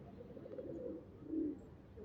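Pigeons in a coop give soft, low cooing calls, a couple of gentle rolling coos close by against a quiet background, with no speech.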